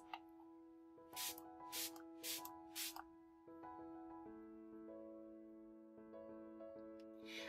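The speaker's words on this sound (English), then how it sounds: "I'm just going to spray some MAC Fix Plus to set all of my makeup in place." MAC Fix Plus makeup setting spray gets about four short, soft hissing spritzes in quick succession, quiet under steady background music.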